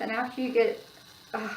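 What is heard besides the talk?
No everyday noises stand out.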